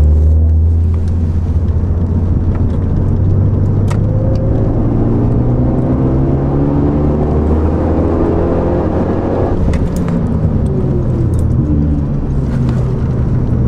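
A Renault Megane RS 265 engine roars continuously at high revs on a race track, rising and falling in pitch through gear changes, loud and close with no talking.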